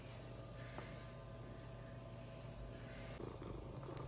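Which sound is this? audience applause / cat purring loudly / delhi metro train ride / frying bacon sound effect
cat purring loudly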